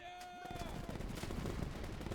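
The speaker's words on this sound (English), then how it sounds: "25-pounder artillery gun!" A 25-pounder artillery gun fires in the Easy Red 2 video game, one heavy booming blast followed by a long rumbling roar of battle noise, with a faint tone fading out just before it.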